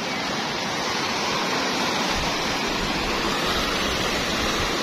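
Lahar floodwater from Semeru volcano rushes down the Mojur river near a breached embankment in Indonesia, a loud, continuous broadband roar of churning water with no break and no voices.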